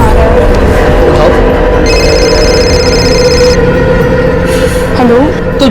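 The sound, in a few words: phone ringing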